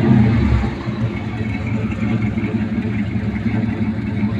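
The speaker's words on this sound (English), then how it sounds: "That idle sound like from the back there" A 1968 Buick Riviera with a 430 cubic inch big block V8 idling, a steady deep rumbling burble heard close from the rear, loud and continuous, with a slightly stronger surge at the start.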